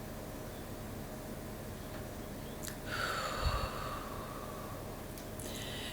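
A slow, deep breath drawn during a relaxation breathing exercise: one soft, breathy rush swells midway and then fades, heard alone over a steady background hiss.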